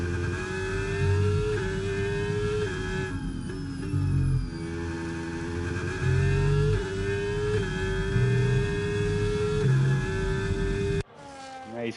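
A Formula 1 car engine screams through an onboard qualifying lap in a Qatar race in an F1 video game, a steady high-revving whine that rises and dips through gear changes, with brief lulls into corners, loud and continuous before cutting off near the end.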